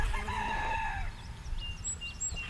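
Free-range backyard chickens with a rooster crowing in a long drawn-out call up close, followed by scattered sharp chirps from small birds nearby.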